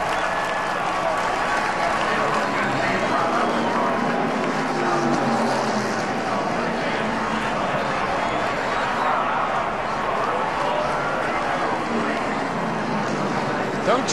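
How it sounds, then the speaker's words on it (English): Crowd ovation at the Aaron's 499 NASCAR race, a continuous roar of clapping and cheering mixed with engine noise that fills the whole stretch, with commentators talking over it. "Standing ovation from the crowd."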